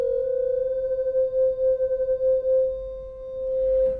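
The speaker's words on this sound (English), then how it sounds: "Positive output all the way up, sine wave." A steady, pure sine tone from an analog modular synthesizer oscillator, sustained and clear with a faint gentle wobble in level and a soft noise near the end.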